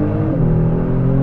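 Kia Stinger GT launching under launch control, a loud, close engine drone with steady harmonic rumble through a short burst of acceleration.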